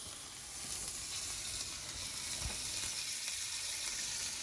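Meat with a fatty edge fries in a pan, a steady soft sizzle and hiss with a few small pops and stirring scrapes, close but fairly quiet, with no talking.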